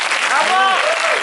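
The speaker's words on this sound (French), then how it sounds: "on les applaudit encore chaleureusement" Warm audience applause at a film premiere screening and debate, dense continuous clapping from a crowd with a voice talking over it.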